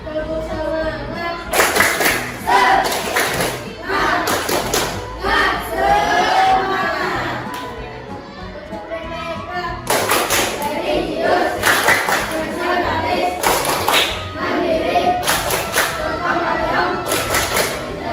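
A class of students performs a rhythmic clapping chant during a school science lesson, with bursts of group clapping and shouted voices in two main sections, loud and close, amid crowd chatter.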